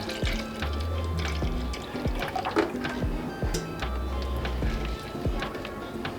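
Milk is poured into a bowl for cornbread batter, a liquid splash and trickle amid light kitchen clatter and knocks, close by.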